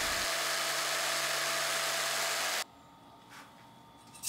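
A jigsaw cuts a circle through 1/4 inch MDF, buzzing steadily and loudly for about two and a half seconds before stopping abruptly, leaving a quiet room.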